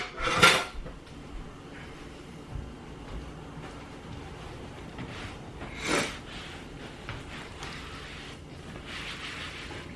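Chopped tomatoes scraped across a cutting board with a bench scraper, giving two brief, sharp scraping clacks several seconds apart against a quiet, low room rumble.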